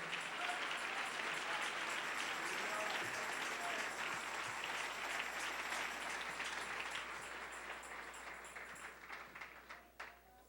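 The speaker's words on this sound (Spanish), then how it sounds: "Dele ese aplauso al Señor en esta preciosa noche." A church congregation applauding during an evening service, dense sustained clapping that holds steady and then gradually thins out toward the end.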